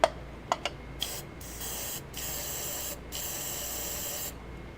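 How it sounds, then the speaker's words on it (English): Spray paint from an aerosol can hisses into a paper cup: a few quick taps, then two long steady blasts separated by a short pause, close and fairly loud. "So you take this, spray into a can, because anything else, or a paper cup."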